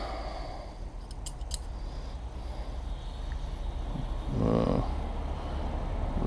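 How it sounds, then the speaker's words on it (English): A few quick metallic snips and clicks near the start over a steady windy outdoor background, with a brief louder rustle later. "Nice pair of scissors."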